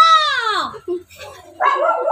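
A dog lets out a loud, high, sliding yelp close by, then a few short yips, followed by a burst of busier sound that may include a voice.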